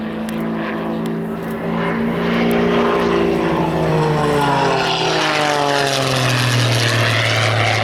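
An aerobatic propeller airplane flies knife-edge at an air show, its engine droning loud and steady for several seconds as the pitch slides downward while it passes close by.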